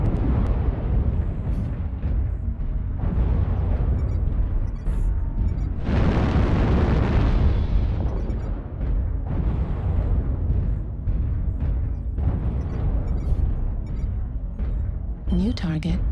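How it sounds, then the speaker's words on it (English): Video game airstrike explosions boom and rumble in heavy bursts, with a big broadband blast in the middle and dense rolling impacts throughout, loud and close. "Airstrike online."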